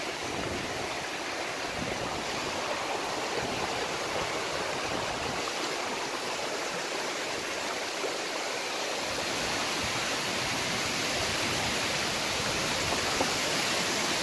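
A steady, loud roar of falling water fills the whole stretch, broadband and constant, right beside a waterfall at the entrance of a mine.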